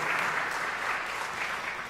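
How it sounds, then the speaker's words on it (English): A crowd applauding steadily, dense clapping from many hands that holds at an even level throughout, with no voices on top. "How about a round of applause?"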